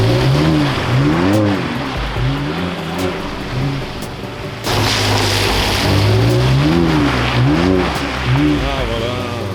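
A BMW M2 Competition engine revving on a drift track, loud rising and falling swells repeating in waves, close and dominant, with people talking over it.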